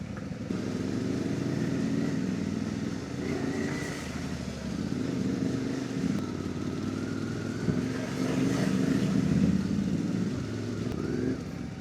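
A 4x2 vehicle's engine drones steadily and close as it wades through water at a motocamp, a continuous rumbling hum with mild swells in pitch throughout.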